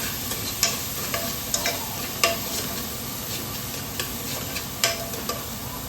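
Spices with ginger and garlic sizzle and crackle in hot ghee while a spoon scrapes and stirs the pan in steady strokes, close up.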